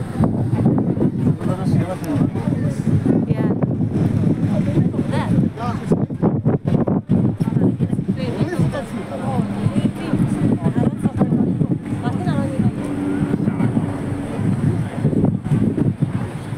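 Strong wind buffeting the microphone in constant gusty rumbles in Central, Hong Kong, with people talking throughout.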